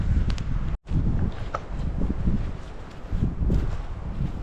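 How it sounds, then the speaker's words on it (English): Strong outdoor wind buffets the microphone during a snowstorm at a winter campsite, a continuous low roaring rush that swells and eases with gusts, with one brief dropout. "In the meantime, it's very windy."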